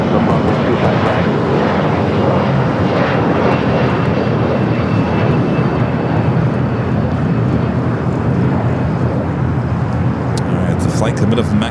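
A Cathay Pacific Boeing 777 airliner roars steadily at LAX airport, a loud, continuous broadband jet engine rush lasting throughout while a voice talks over it.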